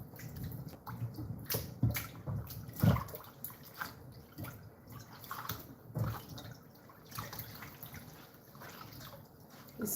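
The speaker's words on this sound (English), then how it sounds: "Let's wash that Ewedu properly so that" Ewedu (jute) leaves being washed by hand in a bowl of water, with soft splashing, trickling and dripping sounds that come in uneven bursts up close, with no talking.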